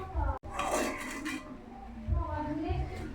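A pot of soybeans is lifted off a home kitchen stove, giving a few brief metallic clinks and scrapes of cookware, close by and moderately loud, with soft voices in the background.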